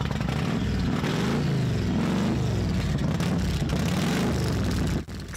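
Engines of cars and motorbikes rumble and rev together at the start of a motor rally of thousands of bikers and vintage cars on Russian streets in Omsk, a loud continuous growl with rising and falling throttle.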